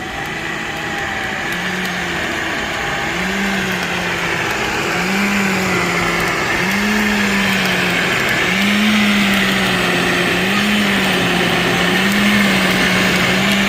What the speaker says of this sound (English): Stop it, you operate the blender.